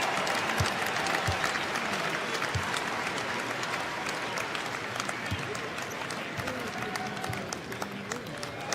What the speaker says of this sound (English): The game begins with a 24-second violation and applause.